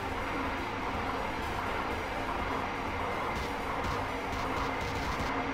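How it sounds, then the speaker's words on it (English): A train passes with a steady, loud rolling rumble that lasts throughout, and faint wheel clatter comes through near the end. There is no speech. "Train."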